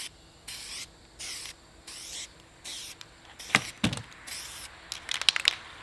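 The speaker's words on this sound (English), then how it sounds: "if you're new to spray painting, one of the things that you don't want to do is stay in one place too long" Spray paint hissing onto Big Green Egg grill bands in repeated bursts of about half a second, followed by rustling and faint clicks of handling, close up and with no talking.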